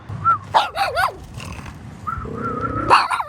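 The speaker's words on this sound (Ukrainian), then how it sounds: "Чого гавкаєш?" A dog barks and growls in short close bursts, with whimpering yips between, outdoors at a building job site.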